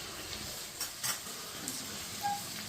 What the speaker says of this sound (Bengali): এবার পেঁয়াজটা যতক্ষণ আর নরম না হচ্ছে আমি ততক্ষণ পর্যন্ত এটা পেঁয়াজটাকে লাল লাল করে ভাজবো